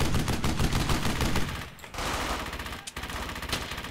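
Heavy sustained gunfire in the World War II shooter game Brothers in Arms: Hell's Highway, with dense overlapping rifle and machine-gun bursts that briefly thin out twice before resuming at full intensity.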